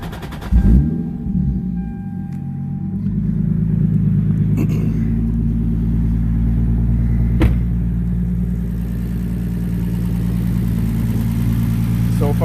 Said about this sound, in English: you guys can hear how the VVTi motor sounds